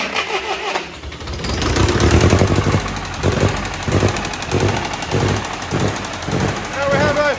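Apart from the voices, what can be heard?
old engine firing up after over 20 years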